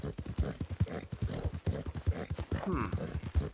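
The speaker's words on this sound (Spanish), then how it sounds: "un caballo rojo, rojizo" A reddish horse clip-clops in the video game RedM, its hooves striking in an even, close, fairly loud rhythm of repeated beats, with no voice over it.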